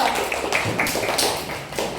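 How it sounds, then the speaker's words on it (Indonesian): Students in a classroom clap for the green group, a short burst of close, uneven hand claps with a brisk, irregular rhythm. "Tepuk tangan untuk kelompok hijau."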